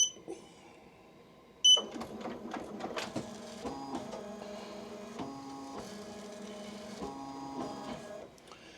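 An embroidery machine stitches a running outline of a left-chest logo design, its needle working in a steady mechanical chatter with tonal motor whirs that start after a quiet opening thump and continue close and alone for several seconds.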